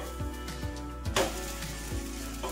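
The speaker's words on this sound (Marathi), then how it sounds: "या साईडने पण आपल्याला छान परतून घ्यायचं आहे मीडियम गॅसवरती" A veg tomato omelette fries in a pan over a medium gas flame, giving a soft, steady sizzle with a few faint knocks of a utensil against the pan.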